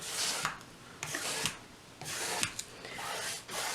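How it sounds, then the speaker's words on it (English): A paintbrush smooths a very light coat of paint back and forth, making soft, close, bristly swishes in uneven strokes with brief gaps between them. "I'm moving back and forth just to vary the brush stroke a little"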